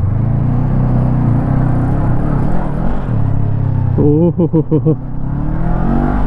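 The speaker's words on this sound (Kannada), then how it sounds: "Let's start the engine. Exhaust ಈ ಥರ ಕೇಳಿಸುತ್ತೆ." A 2024 Honda NX500 adventure touring motorcycle engine running with its exhaust note, a steady rumble followed by a quick series of sharp throttle blips. A voice exclaims briefly over it.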